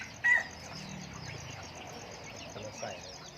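Free-range fighting-breed chickens cluck in a yard, with a sharp burst near the start and a brief rooster crow, fairly faint overall.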